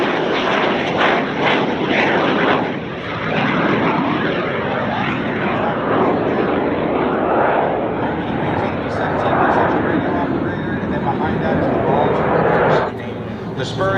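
Warbird piston aircraft, including a B-17 Texas Raiders and fighters, passing over an airshow, a loud sustained engine drone that swells and fades while an announcer talks over it.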